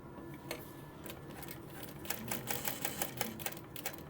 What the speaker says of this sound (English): And I'm going to top stitch around that.